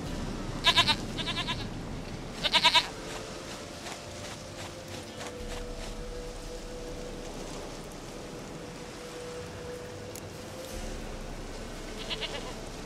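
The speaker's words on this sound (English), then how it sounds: "Goat of mine, dearest, sweetest goat." Goat in The Witcher 3 giving a couple of short bleats over quiet ambient game background with faint hoof clops, moderately near, no talking.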